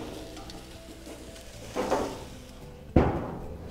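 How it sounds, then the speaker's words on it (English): Steaks hitting a very hot grill, with a sizzling hiss that swells around two seconds in and a louder burst near three seconds as meat lands or the lid closes, no voices. "we remove the steaks from the marinade and we'll place them on a very hot grill and close the lid"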